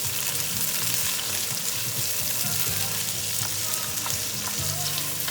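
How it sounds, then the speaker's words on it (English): Turkey and chicken chili ingredients are sautéed slowly on a stovetop, with a steady, dense sizzle throughout and occasional faint stirring scrapes in the pan. "I'm just gonna saute it slowly."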